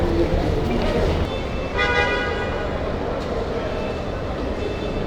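At a station, the Saikat Express passenger train on the Chittagong to Cox's Bazar line gives a brief, bright horn toot over a dense rumble of crowd noise and nearby talk.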